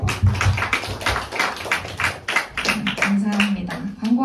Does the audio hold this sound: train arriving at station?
no